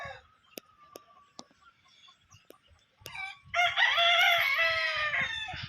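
Gamefowl roosters and chickens on a farm: a few sharp clucks and taps early, then a loud, close rooster crow rises and holds to the end, with other birds faint in the background and no speech.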